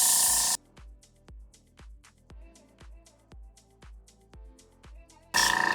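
An airbrush sprays paint onto a Mutant mask in short, loud hissing bursts at the start and end, with a steady run of rhythmic ticking clicks in between.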